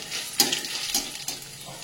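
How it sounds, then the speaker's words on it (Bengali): Curry leaves, ginger and green chili fry in hot oil in a pan with a soft, steady sizzle. A few sharp scrapes and clinks of stirring break through during the short burst. "কারি পাতা, আদা, কাঁচা লঙ্কা ভাজা ভাজা হয়ে গেছে"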